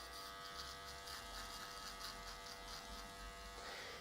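A small electric foil shaver runs continuously at close range, giving a steady, dense buzz with no talking over it and a slight change in tone near the end.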